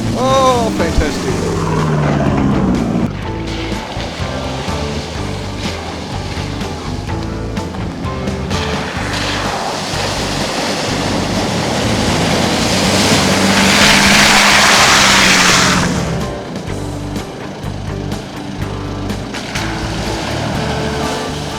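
A car engine revs as it drives through a water-filled hole on a forest track, a loud rushing splash swelling midway and then fading, with the motor rumbling throughout.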